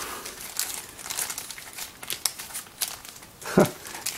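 A plastic component bag, already torn, crinkles as it is opened and electronic parts for a function generator kit are taken out, giving close, irregular crackles with a sharper rustle near the end.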